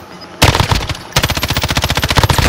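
Automatic machine gun fire in a shooter video game: a short rapid burst, a brief pause, then a longer, loud, close, evenly pulsing stream of shots with no talking over it.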